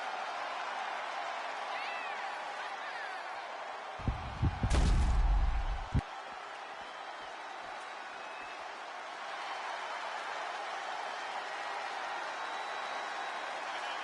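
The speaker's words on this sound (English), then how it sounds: "The crowd on their feet." Arena crowd in the wrestling video game WWE 2K25 keeps up a steady, roaring wash of noise, broken near the middle by a short, heavy booming surge before settling back to the constant din.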